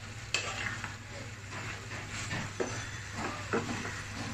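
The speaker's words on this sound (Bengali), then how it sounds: "একটু নেড়ে দিব" Vegetables with green chilies fry in a pan, a soft steady sizzle running throughout while a utensil stirs them with gentle scrapes and a few light clinks, close and quiet.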